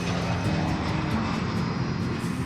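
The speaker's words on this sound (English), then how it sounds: "The aircraft leaves Huntington at 6:38 p.m. and is expected to arrive 52 minutes later." An airplane engine drones steadily as the aircraft departs Huntington for an evening flight, a loud continuous roar with a dense low hum and no voices.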